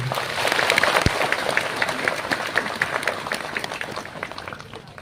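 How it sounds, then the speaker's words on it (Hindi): Audience applause welcoming a bishop at a priestly ordination ceremony, a dense wash of clapping that swells early and slowly tapers off across the clip, with no talk over it. "सबको ताली बजा करके स्वागत करेंगे।"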